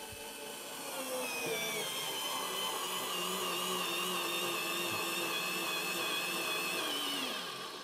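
A Parkside PARS 4 A1 cordless stick screwdriver runs continuously with its button held down, giving a steady, close motor whine with a slight waver that holds for several seconds without interruption.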